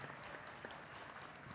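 Audience applause for a startup pitch at a fintech closing ceremony: a steady wash of clapping hands, fairly faint and distant, continuing without a break and with no talk over it.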